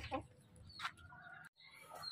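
A few short clucks from chickens, spaced irregularly and fairly faint, with quiet rustling in between.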